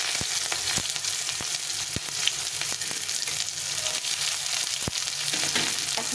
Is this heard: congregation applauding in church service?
no